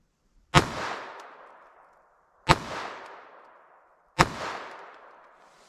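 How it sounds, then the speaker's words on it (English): Three loud, sharp .22 rifle shots fired over a chronograph, spaced about two seconds apart, each a hard crack with a long fading echo trailing behind it. "just running some rounds of 22 over that chronograph to make sure that thing's running"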